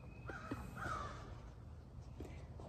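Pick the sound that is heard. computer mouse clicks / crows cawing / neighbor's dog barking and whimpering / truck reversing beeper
crows cawing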